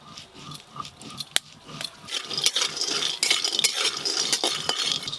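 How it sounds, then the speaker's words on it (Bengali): Homemade bori (lentil dumplings) stirred and fried in oil in a pan. Metal utensil clinks and scrapes come first, then a steady crackling sizzle builds and keeps going. No voices. "এবার তেল দিয়ে আর একটু ভালো করে ভেজে নেব।"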